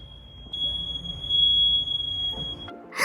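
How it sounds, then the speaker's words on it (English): A shrill, steady electronic beep from a smoke alarm rings continuously at close range, cutting off abruptly near the end. "it was the smoke detectors in the building"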